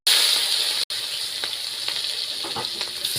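Chopped onion hits hot oil already holding cumin seeds, breaking into a loud, steady hiss of frying with faint stirring clicks, the sizzle cut briefly once and then resuming without voices.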